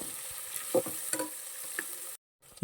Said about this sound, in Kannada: ಎರಡು ಮೀಡಿಯಮ್ ಸೈಜು ಆನಿಯನ್ನ ಈ ರೀತಿ ಸ್ಲೈಸ್ ಹಾಕಿ ಕಟ್ ಮಾಡಿಕೊಂಡು ಅದನ್ನು ಹಾಕ್ಕೊಂಡು ಇವಾಗ ಸ್ವಲ್ಪ ಫ್ರೈ ಮಾಡ್ಕೊತಾ ಇದ್ದೀನಿ